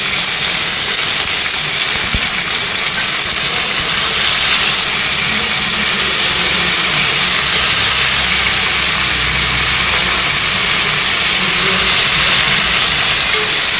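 Sliced onions hit hot oil in a pan with sautéed garlic for a broad bean and drumstick tamarind curry, giving a loud, steady hiss that holds evenly throughout with no voices.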